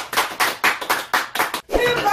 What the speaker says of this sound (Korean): 큰 박수로 환영해주세요!